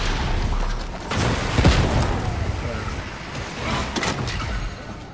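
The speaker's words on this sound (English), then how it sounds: "That grenade was very well put." A grenade goes off in Warhammer 40K: Darktide as a deep, broad boom, followed by a second rumbling blast amid dense in-game combat noise, with players talking over it.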